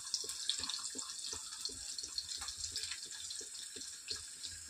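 Tap water runs steadily into a sink while curry leaves are rinsed under it, a soft continuous splashing with small irregular patters, with no talking.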